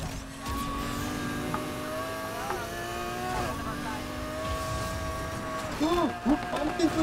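Racing cars in a video game race hold droning, rising and falling engine tones over a steady mid-level bed of road noise, with a brief burst of squealing, wavering sound near the end.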